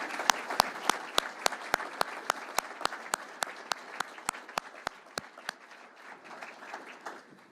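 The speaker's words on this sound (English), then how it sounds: "Let's all give Brett a round of applause." An audience at a chamber of commerce State of the Cities event applauds in a steady wash, with one close clapper's sharp, evenly spaced claps standing out before the applause tapers off.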